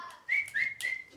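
A person whistles a short melodic tune while painting an Easter bunny shelf sitter craft, a few bright sustained notes with small slides, close and fairly quiet, no talking.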